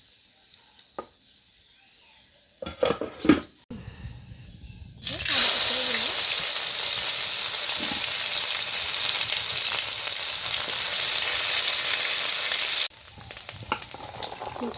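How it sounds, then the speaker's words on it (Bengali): Ginger dropped into hot oil already holding five-spice, bay leaf and dried chili bursts into a loud, steady sizzle after a few clatters, crackling continuously for about eight seconds before easing off. "এই যে আদাটা তেলে ছেড়ে দিবে এখন"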